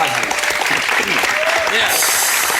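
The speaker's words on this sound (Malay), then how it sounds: "Tepukan untuk Encik Mas Hazli" A studio audience claps steadily throughout a talk show segment, a dense, loud patter of applause with a voice speaking over it.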